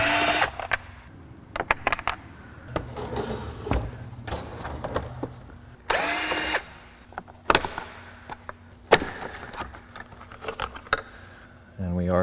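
A power drill whirs in short bursts while removing same-length screws during blower motor replacement on an Acura Vigor, close and loud, with pauses and clinks of tools between runs.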